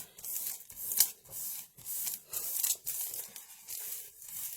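Fingers rubbing a decoupage napkin flat against a wooden heart, producing soft, close, repeated papery swishes and crinkles in an uneven rhythm, with no talking.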